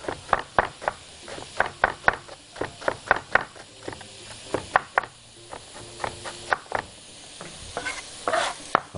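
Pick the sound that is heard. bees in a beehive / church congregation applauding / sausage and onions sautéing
sausage and onions sautéing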